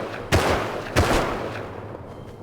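Gunfire in the video game Rust: two sharp, loud shots about half a second apart, each ringing out into a decaying rumble, followed by fainter distant pops.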